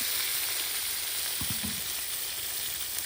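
Small onions fry in a pan with goat liver, giving a loud, continuous close-up sizzle with a brief scrape of stirring partway through.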